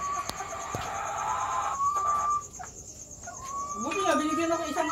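Hybrid white hens cluck and warble in a farm setting, with low rising-falling calls clustered near the end over a steady background hum and a couple of sharp knocks earlier.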